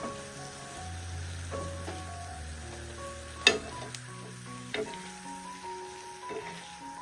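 Jalebi frying in a pan gives a steady soft sizzle, with a few sharp clinks and scraping stirs scattered through it and no talking.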